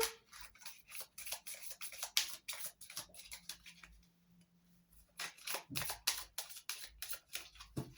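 A deck of tarot cards is cut and shuffled by hand, quick crisp riffling clicks and taps in bursts, close and quiet, with a short pause in the middle.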